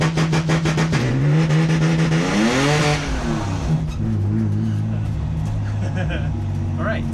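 A BMW 330ci E46 with an M54 inline-six, tuned with custom launch control, holds steady at its launch rev limiter around 3,000 RPM, producing a loud, continuous, rasping engine drone with rapid stuttering pulses. A voice can be heard over it.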